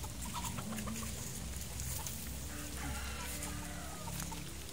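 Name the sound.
White Albany gamefowl chickens clucking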